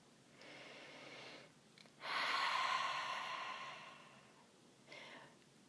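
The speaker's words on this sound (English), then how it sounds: "Focus through the inhale of the nose, exhale of the nose." Slow, deliberate breathing through the nose during a mindful breathing exercise: a soft airy inhale, a longer louder breathy exhale that fades out, then a brief final breath, close and quiet with no talking.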